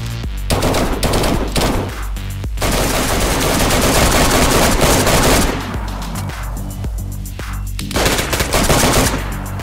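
Loud, rapid automatic gunfire from a video game DayZ weapon, sustained bursts with brief pauses between volleys, close and dominant.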